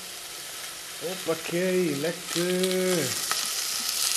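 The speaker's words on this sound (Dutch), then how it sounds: "Mag lekker bakken, lekker fruiten." Onions frying in a good splash of olive oil in a pan with bay leaves, stock and tomato nearby, a steady broadband sizzle running throughout beneath a voice that speaks briefly.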